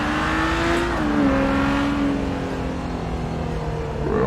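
Car engines hum and rev in busy road traffic, a steady close drone with a rising and falling engine tone and another vehicle passing, no talking.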